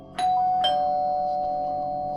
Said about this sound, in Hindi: दोनों सोने की तैयारी में ही थे कि अचानक डोरबेल बजती है।